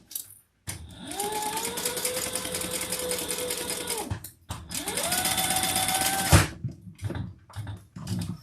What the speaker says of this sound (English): we're going to stitch it, do some top stitching across the top